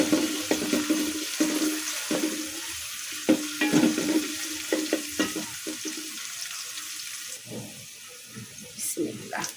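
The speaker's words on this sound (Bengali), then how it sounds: "এই পাতিলটার মধ্যে ফোড়ন দিচ্ছি" Spices sizzle and crackle as they are tempered in hot oil in a nihari pot, a steady close frying hiss broken by stirring and scraping of a utensil against the pot, with a brief voice near the end.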